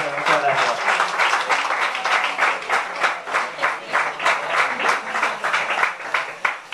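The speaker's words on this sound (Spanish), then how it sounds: "un fuerte aplauso para" Applause at a celebration of a Spanish championship win, a crowd clapping steadily and fairly close for several seconds with voices mixed in under the claps.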